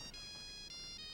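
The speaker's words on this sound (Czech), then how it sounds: "v mobilu Sally, který zvoní uprostřed hodiny" A mobile phone ringtone plays during a lesson, a steady electronic melody of bright harmonic tones that sounds alone for about a second with a brief dip partway through.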